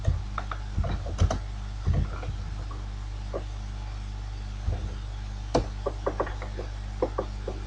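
Close, irregular clatter of computer keyboard keys being typed in short bursts and single taps, with pauses between them, over a steady low hum and with no talking.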